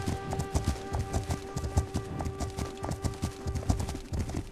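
Steady clip-clop of horse hooves walking at a regular pace in the video game The Legend of Khiimori, close and fairly loud, over a faint constant tonal hum in the background.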